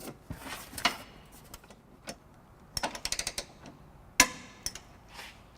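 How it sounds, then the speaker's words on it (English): A torque wrench with a 19mm socket tightens the trailer hitch bolts on a 2012 Scion xB, giving scattered sharp metallic clicks and ratcheting snaps. A quick cluster comes in the middle and a few single clacks follow, all fairly quiet and close. "we have our torque wrench here with our 19mm socket, and we're just going to go ahead and torque all 6 bolts down"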